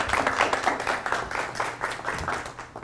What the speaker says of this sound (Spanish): recibimos con un fuerte aplauso a Luis Alfonso Morey.